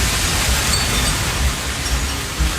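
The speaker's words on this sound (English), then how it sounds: "What you're hearing is natural sounds from Hurricane Milton around Tampa." Hurricane Milton near Tampa roars with steady, dense wind and rain, a loud broadband rushing hiss with low rumbling gusts throughout and no voices.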